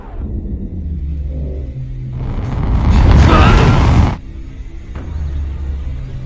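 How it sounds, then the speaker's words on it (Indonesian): Film explosion from a missile strike on a lab: a deep rumbling boom swells in, roars loudly for about two seconds, then cuts off to a lower rumble. "Namun sayangnya ia terlambat dan terkena lonjakan dari ledakan itu."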